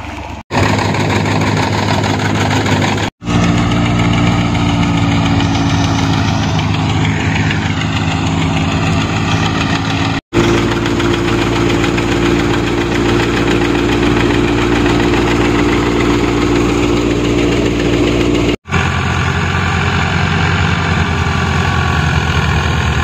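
Engine of a wheat threshing machine in a village field starting and then running steadily, a loud droning idle with a knocking throb, with a few brief breaks in the sound.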